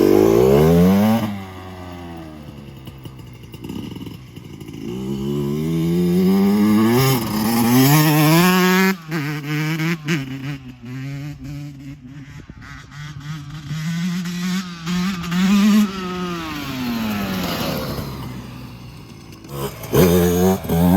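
A 2024 Yamaha motorcycle with an FMF pipe and silencer revs up and down repeatedly, loud and close, the engine pitch climbing and falling in long sweeps with no talking.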